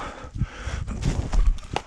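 Cattle moving over farm ground during an Iowa deer season hunt, with irregular heavy hoof thuds and clops close by, a few louder hits near the end, no talk.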